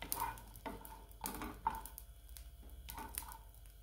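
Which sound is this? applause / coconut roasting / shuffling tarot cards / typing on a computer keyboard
coconut roasting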